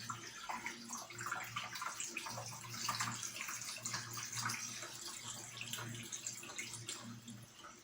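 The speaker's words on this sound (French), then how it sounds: "Et on met l'eau distillée." Distilled water poured into the reservoir of a Euronda E8 autoclave, a steady close trickle and splash running the whole time with a faint low hum beneath.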